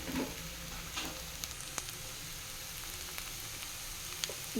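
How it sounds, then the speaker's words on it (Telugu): Boiled egg curry frying in a pan as coriander powder and garam masala are stirred in: a steady, faint sizzle with a few light clicks of the spoon, no talking. "ధనియం పొడి వేసేసుకొని దీన్ని కలుపుదాం"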